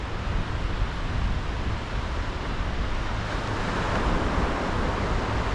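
Strong wind sweeps across Merthyr Mawr beach during a sea fishing trip, a steady loud roar mixed with surf, gusting without a break and with no voices.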